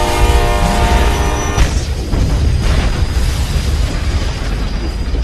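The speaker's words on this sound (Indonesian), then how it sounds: "pelaku yang berada di belakang terkena hantaman kereta api yang membuat mobilnya hancur" A train horn blares, then a loud crash and a heavy rumbling roar of a train smashing into a car in a film, dense and booming throughout.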